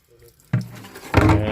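Cold water runs from a tap into a sink at a poultry cleaning station, starting softly and then gushing louder as the flow opens up, a steady splashing rush that holds near and alone.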